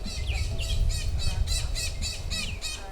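A Mauritius parakeet, the echo parakeet, gives a close, loud series of about nine harsh, rhythmic squawks at a steady pace, heard alone without any talking.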